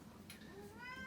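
A cat gives one brief, faint meow in the background of a quiet room, a short rising then falling cry.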